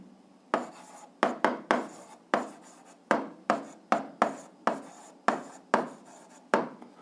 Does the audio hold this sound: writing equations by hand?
yes